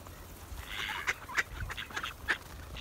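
Ducks on the Velikaya River in Pskov on a foggy winter day quack in a handful of short, sharp calls over a soft outdoor background, fairly close and moderately loud.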